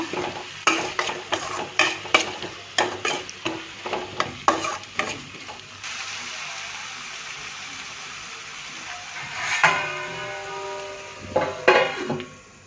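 A spoon scrapes and stirs poha with tomato and salt in a frying pan. Rhythmic, close scraping strokes run over a soft sizzle, with a short pause and then a few more stirs.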